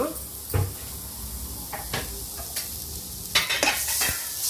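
Masala for Udupi-Mangalore style chicken sukka frying in a pan, stirred with a spoon that gives scattered scrapes and knocks over a soft, steady sizzle.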